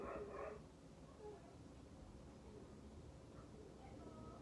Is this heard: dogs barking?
yes